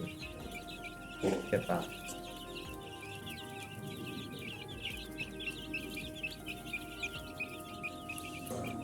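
Free-range chicks cluck and cheep in a rapid, continuous chatter while exploring a farm for the first time, with a brief voice speaking over the birds partway through.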